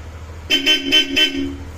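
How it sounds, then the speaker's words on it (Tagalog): Bosch Europa horn fitted to a Yamaha NMAX V3 Tech Max scooter, blown in four short, loud, close toots followed by a slightly longer held blast, over a quiet idling background. "Tapos yung busina nito, Bosch Europa, businahin muna natin pat."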